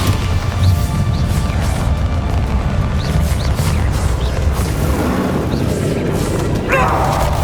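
Bombarda blast spells exploding in the Hogwarts Legacy video game, a continuous heavy roar of crashing impacts and booms with sharp cracks scattered throughout, loud and close.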